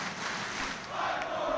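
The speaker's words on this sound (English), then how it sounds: "This crowd is unbelievable." A wrestling crowd roars in a steady, distant wash of cheering at a pro wrestling match, without a break and with no talk on top.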